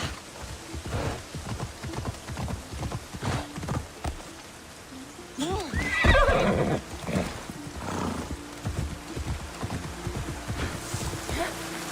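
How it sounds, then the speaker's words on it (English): Horse moving upstream through flowing water in Assassin's Creed Odyssey, with rapid splashy hoof beats over a steady rushing water bed and a brief whinny-like burst near the middle, all fairly quiet. "horse going upstream in the flowing water"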